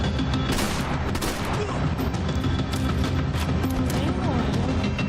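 Dense, continuous bursts of Max Payne 3 gunfire, loud and rapid, with crashing impacts mixed in and a voice talking over the shooting.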